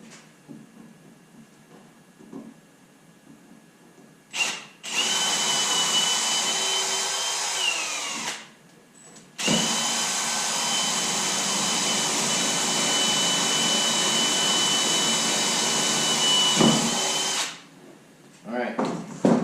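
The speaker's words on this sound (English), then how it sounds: "We also stepped up a size on our drill bit. Seemed to work a little better with the self-tappers." Power drill driving self-tapping screws through wooden boards into a utility trailer's metal rail: two long, steady, loud whines, the first tapering off as the screw seats, separated by short pauses with quiet handling sounds.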